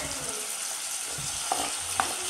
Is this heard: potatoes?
yes